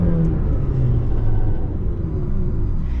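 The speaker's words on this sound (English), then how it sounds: "The exhaust note sounds fantastic as well." McLaren GTS exhaust note while driving, a steady, loud low rumble from inside the car that holds evenly without breaks or pops, with no voices.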